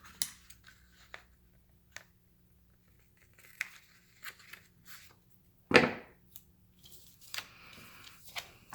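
Scissors trimming paper for a reading journal, a few sharp snips and a crisp cut standing out among soft rustles and quiet handling, close and otherwise calm.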